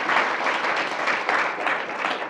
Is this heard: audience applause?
yes